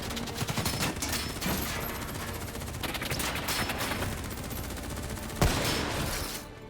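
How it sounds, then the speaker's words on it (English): Sustained gunfire in the shooter Call of Duty: Black Ops 3, dense bursts of rapid shots crackling nonstop with one heavier crack near the end before it fades. "Who's shooting?"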